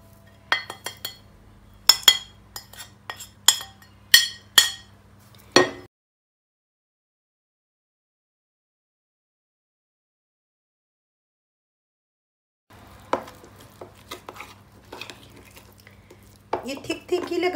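A spoon hits a bowl several times in a row as spices are mixed into a yogurt marinade, making sharp, close clinks. A silent gap follows, then softer scraping and stirring taps.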